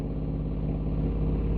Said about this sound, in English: My washer's really loud.